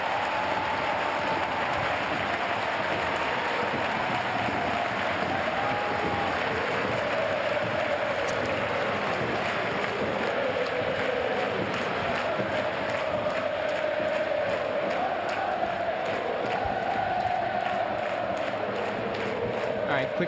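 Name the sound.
stadium fans applauding and cheering at a women's football match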